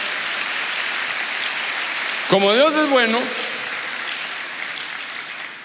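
A church congregation applauds in a steady, continuous wash of clapping while a voice speaks briefly over it.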